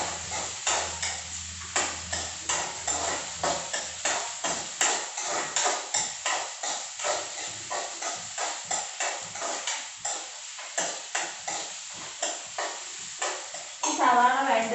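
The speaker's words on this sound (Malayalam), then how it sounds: "ഒന്ന് ഇളക്കി കൊടുക്കാം." Onions being stirred in a pan for a tomato roast, with a run of repeated scraping, tapping strokes of a spoon against the pan. A soft sizzle sits under them and the strokes stay close and steady.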